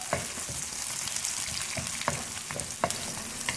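Chopped onion and garlic fry over a medium flame, giving a continuous close sizzle broken by several sharp scraping stirs of a spoon against the pan.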